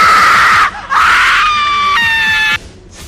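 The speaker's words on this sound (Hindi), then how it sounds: "अचानक किसी लड़की की चीखने की" A girl screams loudly and shrilly in two long sustained wails, the second rising into a piercing, tonal cry, with a brief break between them and a low rumbling background underneath.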